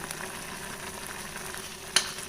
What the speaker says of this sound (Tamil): மஷ்ரூம் வந்து தேங்காய் வெங்காய கலவை போட்டு நல்லா வதங்கிட்டு இருக்குங்களா